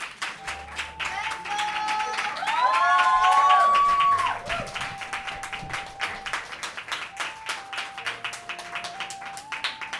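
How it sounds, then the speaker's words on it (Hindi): Audience applause at a Hindi poetry special, a dense stream of clapping that swells loudest briefly in the middle, with tonal music and some voice sounds layered over it throughout. "एक बार जोरदार तालियां शुभम श्याम साहब के लिए।"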